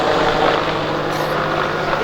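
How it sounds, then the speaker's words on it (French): A helicopter passes overhead as a loud, steady rotor and engine roar that fills the whole stretch evenly, with no voices. "C'est pas Dieu qui passe, c'est juste un hélicoptère."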